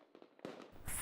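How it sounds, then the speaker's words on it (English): Fireworks at a Boomsday celebration in Tennessee pop and crackle in quick bursts, sharp and fairly loud, ending in a brighter sizzling burst. "Fireworks are fun and entertaining"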